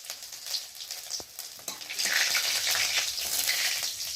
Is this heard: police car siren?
no